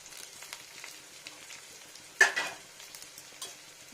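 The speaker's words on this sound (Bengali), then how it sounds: "রসুনটাকে ফ্রাই করি" Chopped garlic frying in a pan, a soft, fairly faint sizzle with light stirring scrapes and one sharper clatter of the utensil midway.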